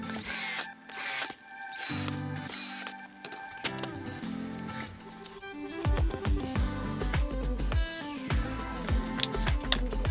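A power drill bores holes in wood through a homemade drilling jig, with bursts of whirring and grinding, close by, separated by short pauses and clattering handling noises.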